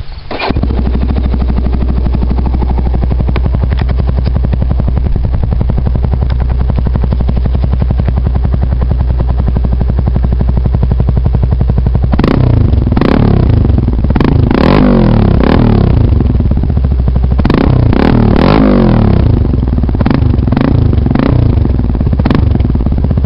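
A 2005 Yamaha Raptor 350 special edition ATV engine starts and idles steadily up close, then revs in a series of sharp, loud blips during the second half, with no voices.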